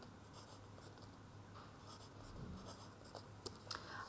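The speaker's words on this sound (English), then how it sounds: "so I always write down sine, cos, tan." Soft handwriting strokes scratch steadily while trigonometry functions are jotted down during a maths exam solution, faint and close, with a few brief louder scrapes near the end.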